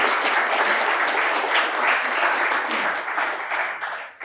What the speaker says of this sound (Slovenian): predlagam, da ploskate, dokler ne pride do tja